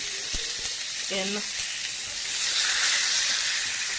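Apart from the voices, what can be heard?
lamb shanks searing and sizzling in a hot pan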